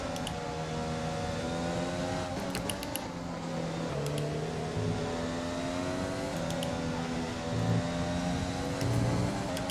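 Formula 1 car engine in the F1 2020 racing game at the Japanese Grand Prix, a steady high-pitched whine with rising and falling pitch as gears shift, loud and continuous with brief clicks and other cars faintly around.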